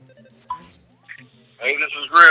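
Electronic telephone ring from the video game EarthBound, short chirpy tones interrupted by a player talking over the game audio.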